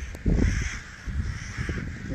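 A flock of crows caws repeatedly in a snowstorm in Zhengzhou, Henan, China, with harsh calls overlapping in loud bursts against steady wind noise.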